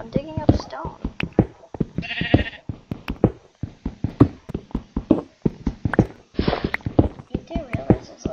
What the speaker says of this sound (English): Why are there so many sheep?